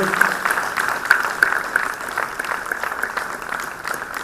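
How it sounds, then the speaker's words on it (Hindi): Audience applause at a national seminar on ancient and spiritual sciences in India, a moderate, continuous clapping with a few sharper individual claps standing out, heard in a reverberant hall. "आप सभी जोरदार तालियों से इस क्रम में जुड़े।"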